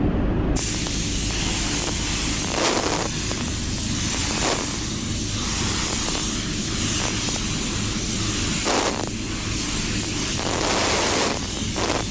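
An aerosol can hisses steadily while spraying a light tack coat onto a helmet, a loud, close, continuous spray with brief pauses between passes, and no talk.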